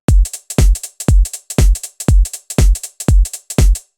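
A programmed drum loop with a steady swung groove: eight punchy kick-and-snare-like hits with bright cymbal tops, every other note pushed late, loud and dry.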